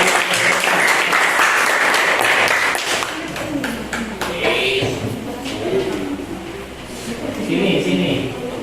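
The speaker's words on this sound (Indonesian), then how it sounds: "Nah, tepuk tangan untuk ya." A classroom of students claps loudly for several seconds, then the applause thins into scattered claps while a teacher and students talk over it.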